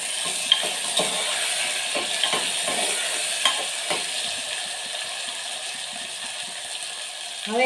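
Chopped brinjal frying in peanut oil after a tempering of mustard seeds, cumin, asafoetida and tomato, with a steady close sizzle and intermittent scraping stirs and ladle clicks against the pan, no voices.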